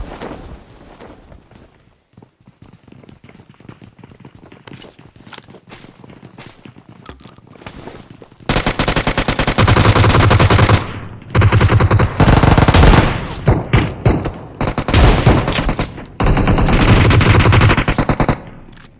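Automatic weapon fire in PUBG Mobile on the Vikendi map, played on an iPad. Soft footsteps come first, then several loud, close rapid-fire bursts separated by short gaps.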